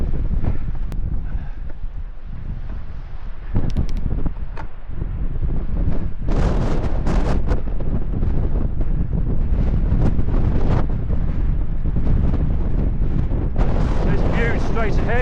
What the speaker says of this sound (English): Why do we get so much wind these days?